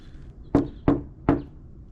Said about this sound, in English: So I'm gonna knock